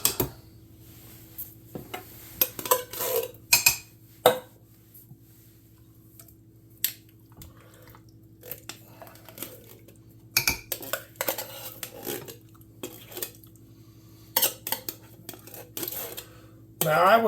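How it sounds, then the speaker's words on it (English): Canned beans are tipped into a crock pot for baked beans, with scattered close clinks, scrapes and wet thuds of metal cans against the pot in uneven bursts, quiet pauses between and a steady low hum underneath. "Just gonna dump the cans of beans in."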